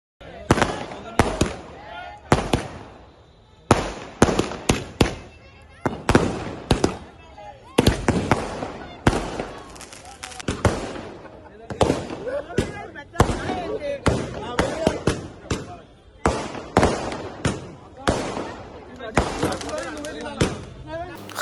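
Fireworks at a celebration, with sweets shared and thanks given to CM Revanth Reddy: a rapid, irregular series of loud cracks and bangs that goes on throughout, with crowd noise in between.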